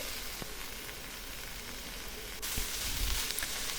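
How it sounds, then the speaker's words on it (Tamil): Fresh mint leaves, about a cup of them, sauté with green chillies in a hot pan for a mint chutney, giving a steady close sizzle that swells louder near the end with no voices. "புதினா ஒரு 2 நிமிஷம் அளவுக்கு வதங்கினா போதும்."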